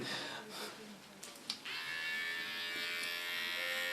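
An electric hair clipper buzzes steadily while trimming the contour line behind the ear of ultra short platinum blonde hair, a close, continuous whir with brief pauses and small bumps early on.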